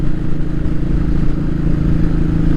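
A Royal Enfield 500 single-cylinder motorcycle engine runs steadily and close, a loud continuous low thumping rumble with no voices over it.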